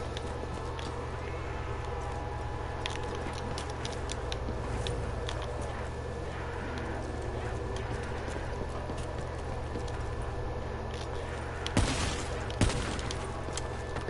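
Sniper rifle shots in Call of Duty Black Ops 3 Zombies, a couple of sharp cracks late on over a steady low game hum, with no talk.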